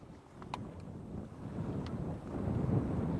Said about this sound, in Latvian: Vispār vējš ir baigais.